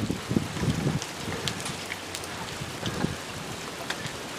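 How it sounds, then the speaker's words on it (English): Hail falling during a thunderstorm in Knox City, Texas, a dense irregular patter of small hits with wind noise, steady and moderately loud throughout. "Alright, we got some hail falling."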